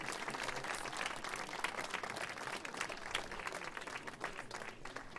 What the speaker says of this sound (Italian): quindi farei un applauso